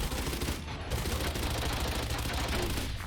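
Dense, continuous automatic gunfire sprays a wall in Valorant, fired from a gun such as a Spectre or Classic. The rapid rattle is loud and unbroken for about three seconds, with no talking.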